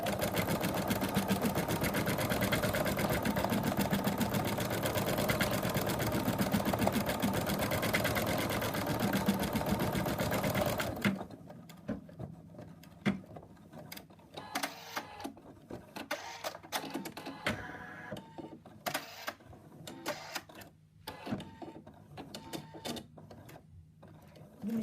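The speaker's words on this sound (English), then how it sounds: "The machine has stitched the outline of the eye" An embroidery machine stitches the outline of a frog's eye with a loud, dense, rapid mechanical chatter for about eleven seconds, then stops, leaving quieter scattered clicks and handling noises.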